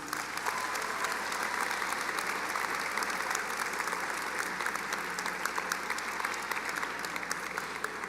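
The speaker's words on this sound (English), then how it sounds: "give your families and people here to support you a round of applause" A large audience at a high school graduation ceremony applauds steadily, a dense, even wash of clapping that carries on without pause and without speech.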